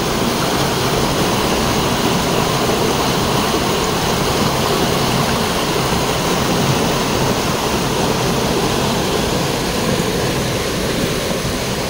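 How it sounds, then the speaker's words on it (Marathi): Babbling river water flowing beside a temple in a rural Konkan setting, a loud, dense, unbroken rush that stays steady and close throughout with no voices. "सुंदर असं खळखळ वाहणारं पाणी"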